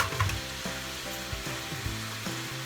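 Stir fry with added soy sauce and garlic sizzles steadily in a pan, a close, continuous frying hiss broken by rhythmic stirring scrapes, with no talking.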